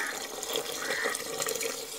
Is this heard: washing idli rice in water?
yes